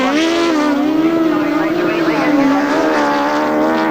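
Several 1000cc sidecar grasstrack outfits roar past at a race meeting, a loud, steady engine drone with wavering pitch as the bikes pass close by, heard under continuous commentary.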